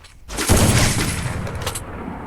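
A sniper rifle fires in the Free Fire mobile shooter game: one loud, sharp blast followed by a long, dense roar of noise that slowly fades. No one speaks.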